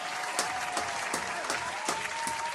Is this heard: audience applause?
yes